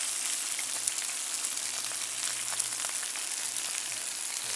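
Delicate fish fillet, salmon or trout, sizzling in a hot skillet, a steady bright crackle of frying fat, close and even throughout with no one talking.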